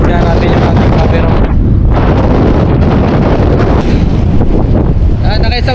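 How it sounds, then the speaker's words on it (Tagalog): Strong wind buffets the microphone on an open fishing boat at sea, a loud continuous roar with gusting surges that persists throughout the clip. "medyo mahangin po talaga"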